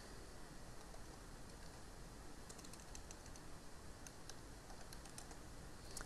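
Typing on a computer keyboard while setting up smart audio on an Emax F3 Mini Magnum drone, heard as faint, quick key clicks in a short burst over steady background hiss.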